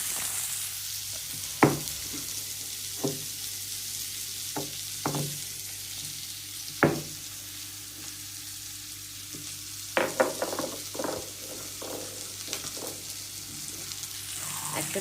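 Large onion pieces fry in a pan for a white-eyed pea curry, giving a steady close sizzle broken by a handful of sharp pops and clinks spread across the stretch, with no talking.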